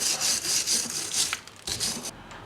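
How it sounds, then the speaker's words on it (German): Wire brush scrubbing front brake parts on a Peugeot 206 CC, rapid rhythmic back-and-forth scratching strokes, close and fairly loud, with no talk over it. "Also hier mal so ein bisschen mit der Drahtbürste drüber"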